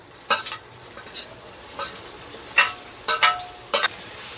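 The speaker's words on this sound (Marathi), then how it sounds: "आणि आता ह्याच्यामध्ये आपण कारलं टाकणार आहोत" Bitter gourd pieces tipped into a hot tempering of mustard seeds, cumin, asafoetida and crushed green chilli, frying with a soft steady sizzle broken by several sharp scraping stirs of a spoon against the pan.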